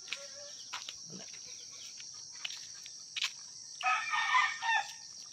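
Scattered soft clucks and a few sharp calls from chickens, then a rooster crows loudly near the end, over a constant high insect-like buzz.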